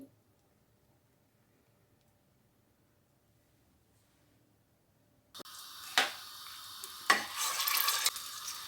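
Spice paste for a potato and carrot curry fries in a pan. Near silence gives way to a steady moderate sizzle, broken by a few sharp clinks and scrapes of stirring.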